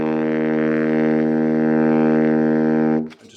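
A saxophone sustains a soft, steady low C for about three seconds, a warm tone with rich harmonics that holds even in volume before cutting off abruptly, followed by a brief breath or rustle.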